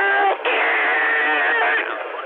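CB radio receiver hiss and warble from many distant stations overlapping at once, a dense continuous band of garbled modulated noise with a brief dropout near the start, loud and steady throughout.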